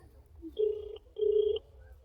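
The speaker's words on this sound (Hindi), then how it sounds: "हम एक बार फिर से तहसीलदार साहब का फ़ोन कर रहे हैं" A phone ringback tone sounds while a call is placed, two steady, clear buzzing tones about half a second each, separated by a short gap over faint background hum.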